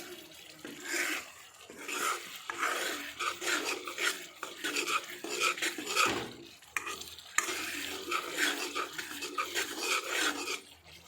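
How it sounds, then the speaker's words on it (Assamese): Spiced pork stirred in a pan, a spoon scraping and churning the meat in bursts with a soft sizzle between strokes, close and fairly loud. "এতিয়া মছলাটো দি অকণমান লৰাইছোঁ।"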